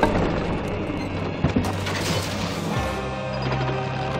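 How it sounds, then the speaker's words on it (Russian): A catapult being rolled in the Stronghold strategy game gives off a steady mechanical rumble and creaking, with a sharp clank partway through, set against game background sound. "Катим катапульту."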